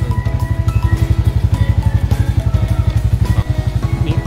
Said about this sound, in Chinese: IE420这台哦，也会配有引擎刹车哈